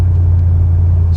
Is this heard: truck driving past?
yes